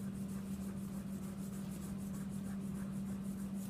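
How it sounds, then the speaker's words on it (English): A sanding stick rubs steadily against a painted surface at a workshop, a faint, continuous scratchy friction under a low steady hum. "That's like a sanding stick."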